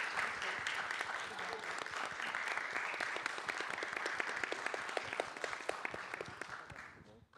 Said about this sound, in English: last applause for the speakers